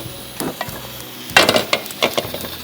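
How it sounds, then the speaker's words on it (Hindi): Chicken frying in a pan on a stove, with soft sizzling and a few sharp scraping stirs and clinks of a utensil against the pan, close and intermittent. "थोड़ा सा इसको भूनेंगे।"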